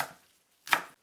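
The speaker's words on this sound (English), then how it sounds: "Mince the cilantro." A single sharp knife chop through fresh cilantro on a cutting board, a brief crisp thud and rustle after a faint earlier stroke, close and alone.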